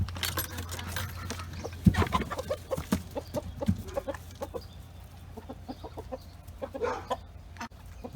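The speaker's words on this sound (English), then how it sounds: "So let me go let the chickens out" Chickens cluck and peck nearby in a quiet yard, short irregular clucks scattered throughout, with a faint low hum underneath.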